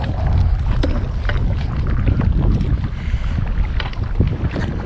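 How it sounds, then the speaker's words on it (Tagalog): Strong typhoon wind roars across Laguna Lake, buffeting the microphone continuously, with waves splashing and slapping against a small boat in a loud, unbroken rush. "kahit sobrang lakas ng hangin at saka alon"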